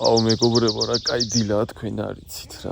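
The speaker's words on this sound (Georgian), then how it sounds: "ჩიტების ხმა." Morning birdsong in a forest at a camping spot: a rapid series of high chirps runs under someone talking close by, with a sharper bird call near the end.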